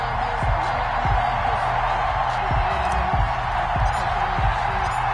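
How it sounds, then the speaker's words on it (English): A stadium crowd at FedEx Field in Madden 21 roars as a steady wash of cheering, with scattered thumps and claps underneath, sustained and fairly loud without any clear talk. "They love their football in this part of the country, and this crowd is ready to go"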